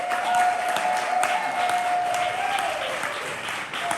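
A poetry slam audience applauds a poet, a dense sustained crowd clapping that holds steady throughout, with a tonal hum running beneath the applause.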